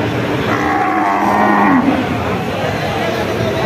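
At a cattle market where Holstein Friesian dairy cows are for sale, a single loud cow moo rises and falls for over a second. Steady crowd murmur and faint voices run underneath.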